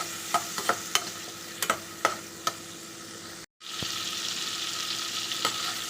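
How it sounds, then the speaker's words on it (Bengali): Shrimp lightly frying in oil with turmeric and salt, a constant close sizzle punctuated by sharp clicks of stirring, a brief dropout, then the sizzle resumes louder. "খুব লাল করে ভাজবো না একটু হালকা করে চিংড়িটাকে ভেজে নেব"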